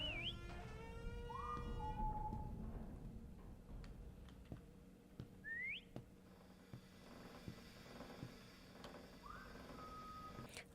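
Short whistled notes sound in the horror video game Lazaret, several separate rising and sliding tones spaced apart over quiet ambience with scattered clicks and taps.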